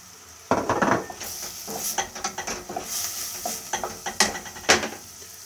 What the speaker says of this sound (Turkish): Yağımız eridi, ısındı. Sebzelerimizi ekleyelim. Öncelikle soğan.